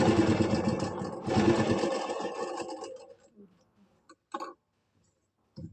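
A sewing machine stitches a kameez in a close, steady run of about three seconds that slows and stops, followed by a few faint handling clicks.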